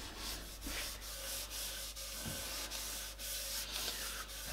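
Quick, rhythmic back-and-forth rubbing as sandpaper works a ukulele's finish along the wood grain, close and steady with no talk.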